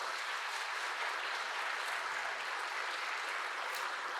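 Even, sustained clapping from a church congregation at a Sunday worship service, honoring elders receiving gifts at the front; the applause is moderately loud, uniform and unbroken throughout.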